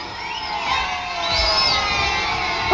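Animated crowd of children cheering and shouting at a political rally, a dense, steady roar of young voices with whoops rising and falling, swelling slightly toward the end.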